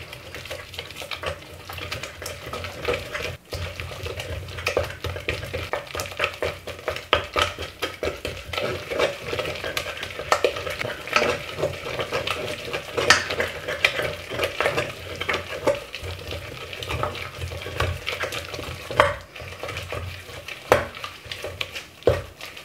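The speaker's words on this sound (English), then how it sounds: "just get your muscle in there and mix it together" Gluten-free cream puff dough gets worked hard as an egg is mixed into it in a pan, giving a continuous close, dense scraping and sloshing stir with uneven thumps throughout, and no talking.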